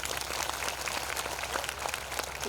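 Audience applause at a Brahma Kumaris meditation camp birth celebration in a hall, a steady dense wash of many hands clapping together, moderately loud and continuous with no speech over it.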